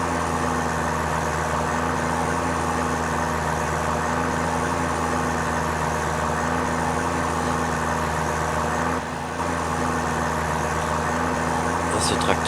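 A farm tractor engine runs at a steady, loud idle before heading out to sow rapeseed, a constant low drone that holds unchanged throughout with voices talking over it.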